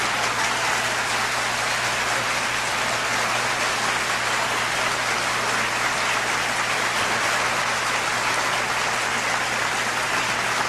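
Sustained, loud applause from a large seminar audience, a dense, even wash of many hands clapping with no break, alone and without talk, along with a faint low steady hum.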